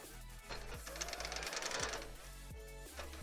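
A sewing machine stitching a cosplay skirt hem runs in a continuous close whirring hum with rhythmic needle thumps, the motor pitch rising and falling as it drives through the fabric.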